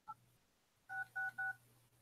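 Telephone keypad touch tones during an incoming call: one short beep, a pause, then three quick beeps in a row over a faint low hum, fairly quiet, no talking.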